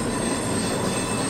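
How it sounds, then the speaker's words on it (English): A train rumbles past close by near Gamboa on the Panama Canal, a steady, dense roar of wheels and rail noise filling the whole moment without a break. "Train is still very noisy,"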